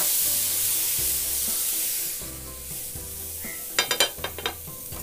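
Water sprinkled onto a hot dosa pan bursts into a sharp, crackling sizzle, a few quick hissing spits near the end over a quiet background hum, close and fairly soft with no talking.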